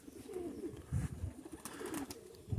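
Pigeons coo in a low, throaty pattern near a cage in a rural yard by a barn, with repeated soft warbling calls over a breezy background and no voices.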